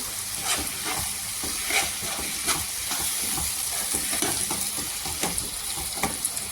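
Tomatoes with salt cook in a pan in an Arabic-style dish, a steady close sizzle and hiss running throughout while a spoon scrapes and stirs in irregular strokes every second or so.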